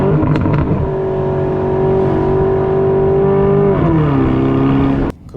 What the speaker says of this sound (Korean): 저 뒤에서 들려오는 저 배기 소리는 상당히 기분 좋게 잘 들려준다는 거